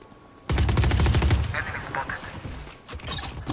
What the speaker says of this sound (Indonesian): ada bunyi turret